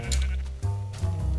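A sheep in the Minecraft video game bleats twice in quick succession, close and clear, a short wavering baa followed by another, with no talk over it.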